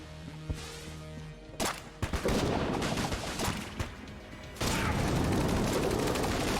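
Bait launcher weapon firing in the Enter the Gungeon video game, loud bursts of rapid crackling shots and impacts, with a longer sustained barrage of fire toward the end.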